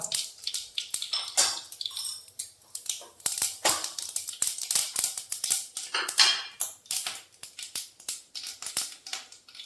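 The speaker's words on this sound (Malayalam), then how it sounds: "എണ്ണ ചൂടായതിലേക്ക് ഇത്തിരി കടുക് കേട്ടോ" Mustard seeds spluttering in hot oil for a squid roast curry: a dense run of crisp popping and crackling bursts, close and fairly loud, continuing throughout without speech.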